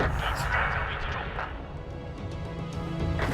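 Heavy tank cannon blasts from the video game World of Tanks, WZ-131G FT tank destroyer, a burst of booming impacts over a dense, roaring background with no talking.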